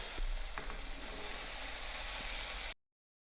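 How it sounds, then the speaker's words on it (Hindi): Two cups of boiled chickpeas are added to spiced masala already fried in a pan, giving a steady, close sizzle that holds evenly for a few seconds and then cuts off abruptly, with no one talking. "मसाला भून चुका है। अब हम इसमें 2 कप उबले हुए चने डालेंगे।"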